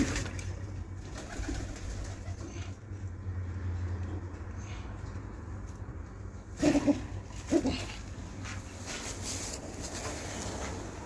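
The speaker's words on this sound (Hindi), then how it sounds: "ये देखिए कि ये कबूतर है" Breeder pigeons coo softly in a loft, low murmuring calls under steady background hum, with a couple of louder rustles or flutters partway through and no clear speech.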